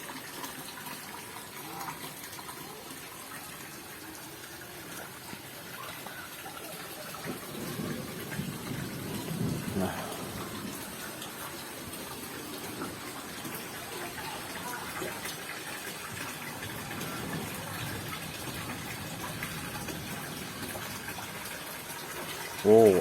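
Clear spring water flowing steadily at a mountain spring on the slopes of Mount Lawu, a continuous soft gushing wash with a faint voice murmuring at times and a brief knock at the end.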